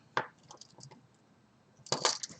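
Cutting the end off a handmade piece gives two sharp cracking clicks, one early and a louder, longer burst near the end, with quiet faint handling between.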